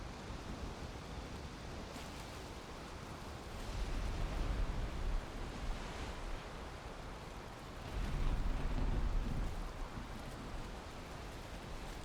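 Steady broadband rain and wind of a storm out on the open ocean in a sailing video game, with two heavier low rumbling swells rising mid-clip, no talking.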